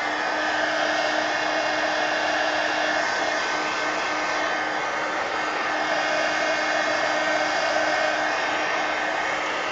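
A heat tool or dryer blows steadily over paint on an art journal page, giving a loud, constant whooshing whir close by with no breaks and no talk.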